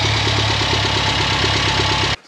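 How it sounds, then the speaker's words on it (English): A Toyota KE70 Corolla engine idles with an uneven, lumpy pulse, loud and close, before cutting off abruptly at the end. "when it's just sitting here idling and free revving"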